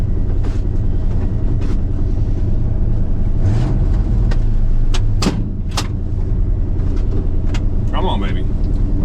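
A cheap V8 pickup truck being driven, its engine rumbling steadily and loud throughout, with a surge partway through and a few knocks and clunks from the cab; a voice speaks briefly near the end.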